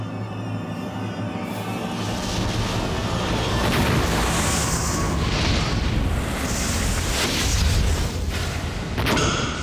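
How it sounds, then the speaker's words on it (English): A hydrogen gas explosion recreating the Fukushima nuclear disaster gives a long, loud roaring rumble with heavy low-end booming that stays sustained throughout, no voices present. "Dramatic and powerful as a hydrogen explosion is, it really is just rapidly burning gas"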